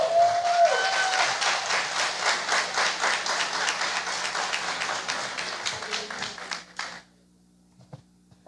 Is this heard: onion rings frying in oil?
no